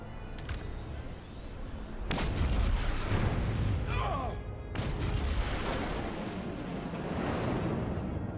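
An explosive detonation in the video game Star Trek Resurgence: a loud, broad blast hits around two seconds in, then a second heavy boom follows near the five-second mark, with a long rumbling roar continuing beneath faint background voices.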